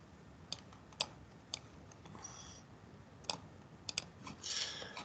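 Sharp, faint computer mouse clicks, single and doubled, spaced irregularly against a quiet room hiss.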